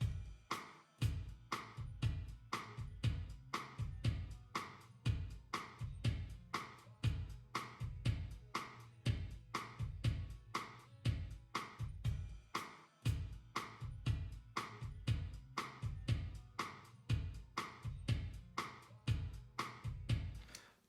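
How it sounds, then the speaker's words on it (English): A steady drum beat of kick and snare hits repeats evenly for about twenty seconds, each hit trailing into a wide, washy reverb tail; no voices. "You can hear how wide the reverb gets by itself."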